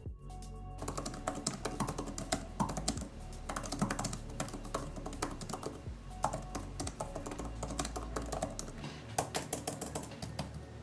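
Steady, brisk typing on a compact iPad Air keyboard case, soft clicky keystrokes in a continuous rhythm with a low background hum, no voices.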